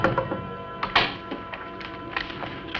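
Knocking on a door in an old film, a few dull thunks and taps spread irregularly across a couple of seconds, with one firmer knock standing out, no voices present.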